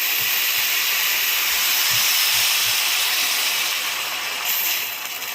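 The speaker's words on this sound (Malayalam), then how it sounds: "വെള്ളം ഒഴിച്ചു കൊടുക്കാം തിളച്ച വെള്ളം ഒഴിച്ച് കൊടുക്കണം" Boiling water poured into a pot of potato brown stew, giving a steady, loud broadband hiss that fades slightly at the end.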